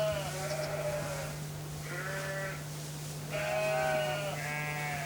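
Ewes bleat in a lambing pen, several wavering calls in short bursts with quiet gaps between them, set over a constant low electrical hum.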